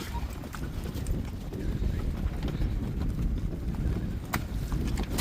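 Hooves clip-clop at a walking pace on hard ground, several horses moving together with wind rumbling against the microphone.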